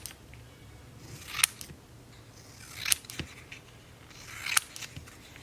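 Scissors snip through paper cut-outs for a collage, three distinct crisp cuts spaced about a second and a half apart with soft paper rustling between them, close and alone.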